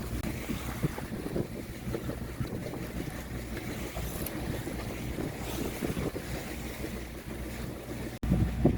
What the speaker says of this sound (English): A bit more footage of the waves on Wide Bay Bar.